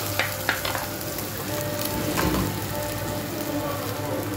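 Finely chopped tomatoes hiss and sizzle in a hot pan as they fry for a non-veg lunch gravy, a continuous close crackle with a few sharper stirring clicks near the start.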